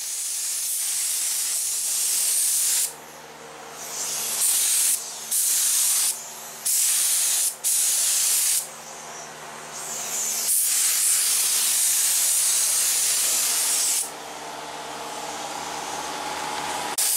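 Long bursts of 2K high build primer hissing from a spray gun onto a custom fiberglass door panel, broken by several short pauses, loud and close with a faint engine-like hum underneath.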